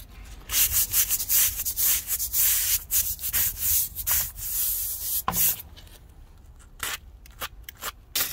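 A wire brush scrubs hard against bricks to remove mortar stains after building work, a loud, steady rasping in rhythmic strokes that pauses briefly near the end.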